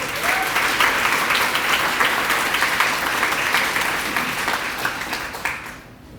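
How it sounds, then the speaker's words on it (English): A crowd of attendees at a YWCA ribbon-cutting ceremony in Portsmouth, Virginia, applauds Norfolk city council and school board leaders, a steady, dense round of clapping that fills the room and fades slightly at the end. "Give them a round of applause."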